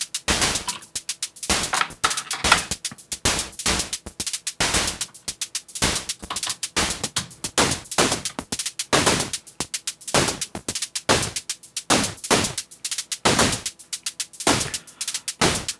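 Crushed 8-bit explosion drum hits from a Dreadbox Dystopia synth, with positive voltage into the CV input and the attenuator fully up. A rapid, irregular run of loud, harsh noise bursts fires like gunfire, alone with no voice.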